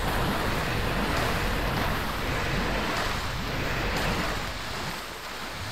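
Water poured out everywhere in the god game Black and White 2, a broad, steady rushing wash like heavy surf that swells and then eases off slightly toward the end, with no talking.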